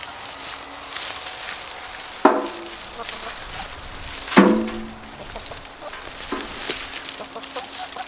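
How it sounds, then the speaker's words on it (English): Chickens on a Zone 3 flower farm cluck softly in scattered bursts, with two sharper, louder calls standing out against steady outdoor background noise. "What about the chickens in here? They'll be all over that."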